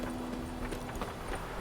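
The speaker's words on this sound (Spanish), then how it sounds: "El caballo. Ven para acá." Horse hooves clip-clop in a steady, close rhythm in The Witcher 3: Wild Hunt, a short run of quiet, regular footfalls.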